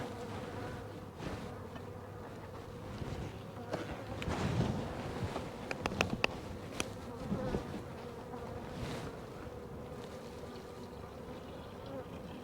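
Honeybees buzz in a steady swarm-like hum around a hive being fed, the droning close and continuous with brief louder passes of individual bees.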